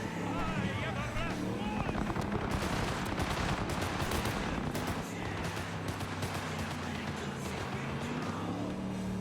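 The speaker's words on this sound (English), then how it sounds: "Ah, gunshots." Rapid bursts of gunfire in Cyberpunk 2077's Night City crackle continuously over a dense, loud background rumble, with sharp cracks scattered throughout.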